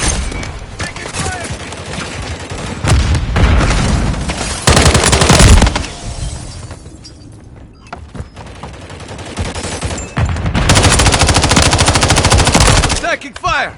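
Rapid machine gun bursts rattle loudly in Modern Warfare 3 multiplayer, coming in several long volleys with brief lulls between them.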